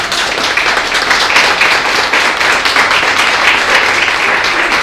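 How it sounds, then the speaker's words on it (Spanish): A church congregation bursts into sustained applause, dense overlapping clapping from many hands filling a large room, steady and loud throughout without a break. "¿Cuánto le regalan ese aplauso al Señor?"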